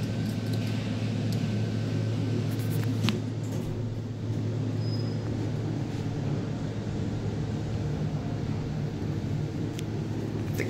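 A Thyssenkrupp traction elevator rides down in an unfinished high-rise tower, a steady low mechanical hum and rumble with airy hiss throughout, a few faint clicks and no talking.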